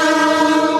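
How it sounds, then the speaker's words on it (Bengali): The 12333 Up Vibhuti Express, running with LHB coaches, pulls out of Panagarh station. A loud, steady horn blast rings out close by and holds for the whole moment. "আমাদের ট্রেন ছাড়ছে।"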